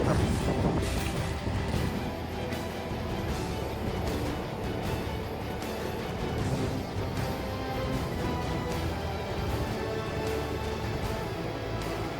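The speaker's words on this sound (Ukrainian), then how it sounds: "І зараз виконується оранка на глибину 30-31 см." Massey Ferguson 8737S tractor pulling an eight-body Kuhn Challenger plough at 30-31 cm depth and around 8 km/h under heavy engine load: a steady, loud, unbroken drone with wind rush throughout and no talking.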